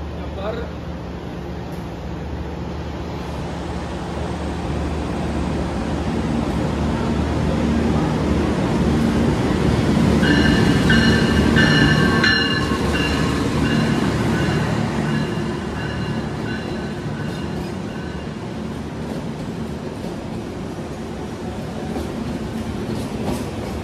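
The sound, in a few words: train arriving at station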